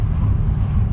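Deep, throaty low-end rumble from a Corvette Z06 LS V8 with a stock exhaust and muffler mod, steady and close for about a second with no talk over it.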